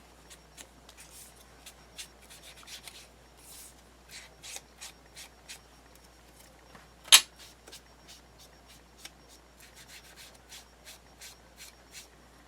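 Ink is rubbed onto paper edges for a scrapbook display box and mini album, making faint, quick scratchy strokes in an irregular series, with one sharper swipe partway through.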